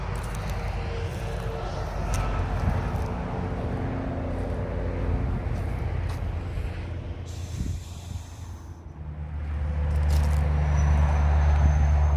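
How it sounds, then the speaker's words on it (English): Trucks and traffic on the noisy M1 freeway, a continuous loud roar of passing vehicles with rising and fading hisses and a deep rumbling swell near the end. "this noisy M1 freeway where you see lots of trucks go down"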